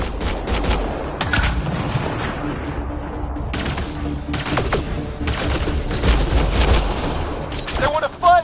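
Dense gunfire in the sci-fi shooter Mass Effect Andromeda: rapid overlapping bursts and shots crackle loudly and continuously, mixed with booms and combat noise, with occasional voices under the shooting.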